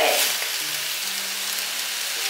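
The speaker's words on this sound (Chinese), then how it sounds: "腐竹放进来，大概炒了1分钟" Dried tofu skin stir-fries in a wok with a loud, steady hiss of hot oil, a dense crackling wash that stays constant throughout, close up with no voices.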